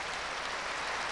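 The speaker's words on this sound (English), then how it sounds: "This crowd let him know and let the Newfoundland know exactly who they were hollering for" A dog show audience cheers and applauds for a Newfoundland in a dense, continuous wash of clapping and hollering, steady and fairly loud throughout the short moment.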